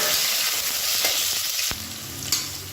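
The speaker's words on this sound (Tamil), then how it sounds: "எண்ணெய் சூடானதும் ஒரு 1/4 டீஸ்பூன் போல் சோம்பு மட்டும் சேர்த்துக்கலாம். இதோட கருவேப்பிலை சேர்த்துக்கலாம்." Fennel seeds and curry leaves crackle in hot oil with a loud, dense sizzle, then a sudden sharp spit as more goes in and the frying carries on at a lower, steady hiss, with no speech.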